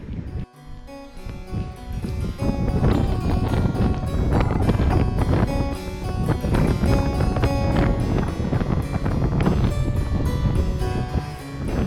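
Icy mountain wind batters the microphone during the Ultra du Pas du Diable trail race in 2018, making a loud, continuous buffeting rumble that surges and dips for the whole stretch, with no voices.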